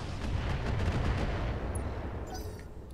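Heavy weapons fire in the mech combat video game Roguetech, a dense rumbling barrage of booming blasts that rolls continuously then fades out, with small electronic blips near the end.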